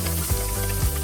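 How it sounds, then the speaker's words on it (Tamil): Onions and curry leaves sauté in oil in a pan for village-style mutton kulambu, a short burst of steady close sizzling over a low hum. "அப்புறமா கருவேப்பிலை, வெங்காயம் வந்து கொஞ்சம் வதக்கி விட்டுட்டு அப்புறமா தக்காளி சேர்த்துக்கலாம்"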